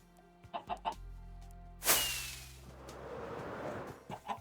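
Minecraft chickens cluck in short bursts, a few soft clucks at first, then a loud noisy burst, with more clucking near the end.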